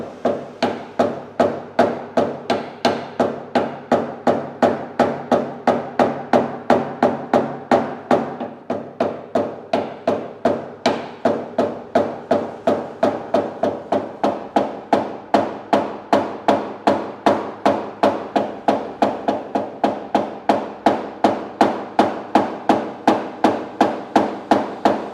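A small hammer taps a knockdown block during paintless dent repair, a fast, even series of sharp metallic knocks that goes on without pause for the whole stretch, close and loud, with no talk.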